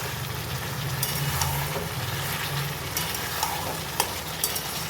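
Chicken with Kashmiri chilli fries in a pan, a constant close sizzle with soft stirring sounds and a few light clicks of a utensil, steady throughout and unaccompanied by speech.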